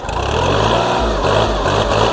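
A used Kubota L3608 DT tractor engine holds a loud, steady, high rev, a continuous rough diesel drone with no pauses.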